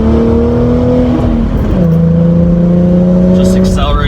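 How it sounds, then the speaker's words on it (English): A car fitted with a Pypes mid-muffler true dual cat-back exhaust accelerates onto a highway in fourth gear with the windows up, a loud steady engine drone rising and shifting in pitch from inside the cabin. "Just accelerating into traffic and it sounds great."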